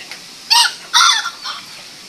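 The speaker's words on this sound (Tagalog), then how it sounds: "Ito yung mga mga regular ko na bantam. Mga bantix po yan. Yan sila. Kumakain." Bantam chickens of the bantix type clucking nearby while feeding, with two loud bursts of hen calls and a softer cluck after, no talking.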